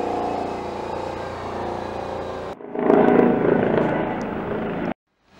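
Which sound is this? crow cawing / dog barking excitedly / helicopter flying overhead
helicopter flying overhead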